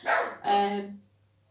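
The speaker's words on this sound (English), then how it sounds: "Sorry, that's my dog barking, one of them." A pet dog gives two quick barks indoors, close and loud, the second slightly longer and trailing off into quiet with a low hum beneath.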